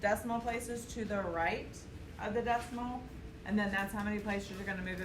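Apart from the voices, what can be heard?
None of the usual background noises is heard.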